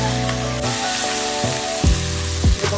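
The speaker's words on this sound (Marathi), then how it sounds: "भाजी ठेचा आपण हिरव्या मिरचीचा परतून घेऊया" Green chilli thecha sautéing in a hot pan gives a steady, close sizzle, with a few louder stirring scrapes and sputters near the end and no voices.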